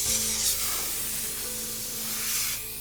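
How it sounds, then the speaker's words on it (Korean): White disinfectant smoke sprays from a machine's hose pushed through a car window, a steady broadband hiss lasting a few seconds and swelling slightly at the start and end, with no voices. "호스에서는 흰 연기가 뿜어져 나왔다"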